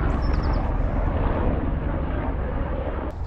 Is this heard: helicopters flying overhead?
yes